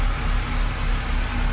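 A Cummins 5.9 marine diesel engine idles on a boat with a steady, loud low rumble and a constant mechanical hum, no change in speed.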